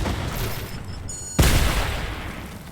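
Fortnite gunfire during a competitive match: dense game audio with a sharp, loud shot-like burst midway, followed by ringing, sustained noise.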